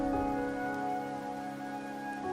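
Rain falls steadily in Wuthering Waves as a soft, even hiss beneath a sustained tonal musical drone, moderately loud and continuous, with no talking.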